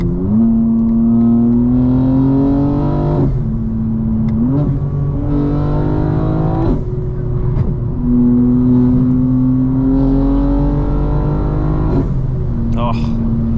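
A tuned 900 hp BMW M4 Competition xDrive, a 2025 model, is heard from inside while driving, its engine droning and rising in pitch through repeated revving pulls, with each gear change dropping the tone before it climbs again.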